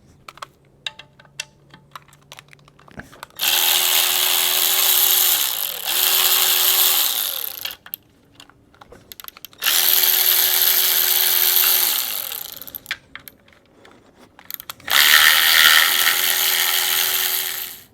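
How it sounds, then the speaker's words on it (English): A power tool whirs in three sustained bursts, several seconds each, as it zips off the 10mm bolts holding the pan to a GM 4L80E automatic transmission case, with clicks and rattles between runs. "we're going to zip off these 17 10mm bolts that are holding the pan onto the"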